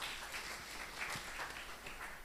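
Faint, steady applause from an audience at a petroleum sector event in Uganda, a soft continuous patter heard from a distance.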